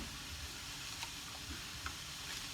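Mushrooms frying in a pan for a no-chicken dumpling dish, giving a steady, quiet sizzle with faint stirring scrapes and small pops, no voices.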